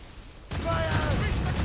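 Cannon fire from a ship's broadside in the naval combat of Assassin's Creed Rogue: after a quiet moment, a sudden loud booming barrage erupts and rumbles on, with shouted voices briefly over it.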